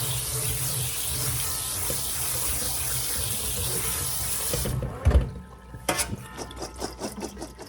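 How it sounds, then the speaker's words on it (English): Soaked dried peas rinsed under a running kitchen tap, a steady gushing stream for several seconds, then the flow stops and a few wet sloshes and knocks follow, close by. "I'm gonna rinse them a little."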